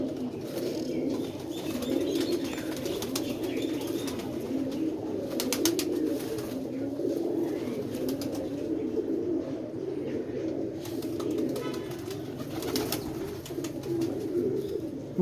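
Pigeons, including a netted jaldar pigeon, cooing steadily in a continuous low throaty drone throughout, with occasional sharp rustles and clicks nearby.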